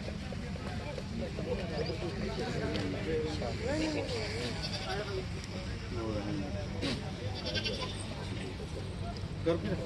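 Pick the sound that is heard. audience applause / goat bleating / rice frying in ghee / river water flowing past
goat bleating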